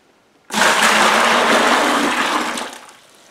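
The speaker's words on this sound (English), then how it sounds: "And last, some boiling hot water." Boiling hot water poured into a container holding a carburetor soaking in lemon juice, a loud steady gushing rush that starts abruptly, holds for about two seconds, then tapers off, very close.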